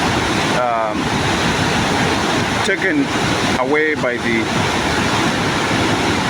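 Waterfall pouring over strong, solid rocks in a rainforest, a steady broad roar of rushing water throughout, with someone talking briefly over it.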